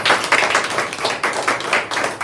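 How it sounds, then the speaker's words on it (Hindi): An audience claps at a health awareness and product event, a steady, fairly close burst of many hands applauding together with no pauses. "हम चाहेंगे इसके लिए एक जोरदार ताली।"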